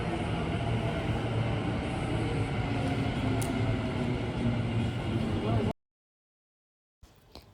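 Metro train ride from inside the carriage, with a steady loud rumble and rushing roar running continuously before cutting off abruptly, then a brief return at the end.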